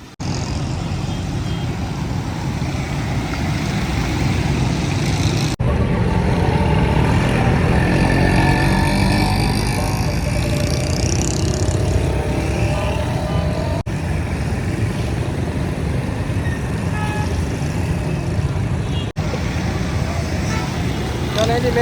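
A bus pulls up amid busy road traffic on the way to Chaupal, a loud sustained engine rumble that swells in the middle of the stretch, with people talking under it.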